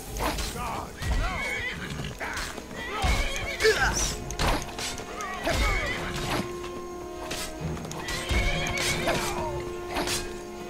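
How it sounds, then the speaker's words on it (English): A horse in the video game Skyrim whinnies several times, with hoofbeats clopping beneath the neighs and a steady low game ambience throughout. "There goes my horse."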